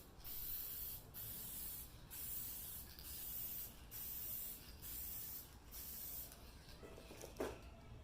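Aerosol sealant hisses onto an alcohol ink painting on canvas in a series of short even bursts, about one per second, each ending in a brief gap, close and fairly quiet.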